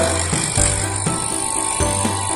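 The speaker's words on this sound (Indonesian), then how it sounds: "tutorial untuk mesin bor kertas elektrik" A steady electric motor drone from an INV electric paper drill with a couple of heavier thumps as the bit presses down through paper; continuous machine hum, close and fairly loud, no talking.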